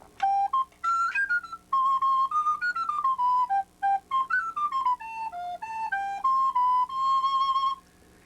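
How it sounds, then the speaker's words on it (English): A wooden soprano recorder plays a bright, breathy melody of short phrases with small pauses, heard alone and close. "Now let's hear what the wooden Yeah. recorder sounds like."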